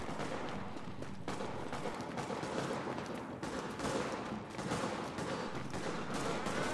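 Dense, continuous gunfire rattles through a firefight in The Division video game, overlapping rifle bursts and shots keeping up a loud, unbroken barrage.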